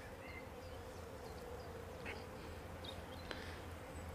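Bees gathering at a small bowl of birch sap outdoors, a faint, steady buzzing hum close by under low ambient noise, with no talk.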